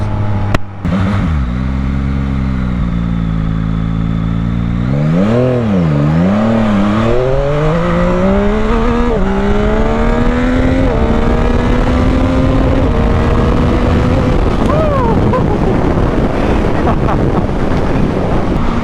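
A 2021 Yamaha MT-09 motorcycle accelerates hard, its loud engine note climbing and dropping through several gear shifts under heavy wind buffeting on the microphone.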